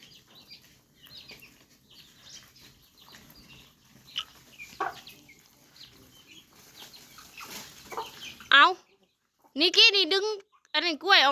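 Chickens cluck and squawk while being fed banana peels, with soft scattered sounds and someone talking through the first part, then loud, close bursts of clucking near the end.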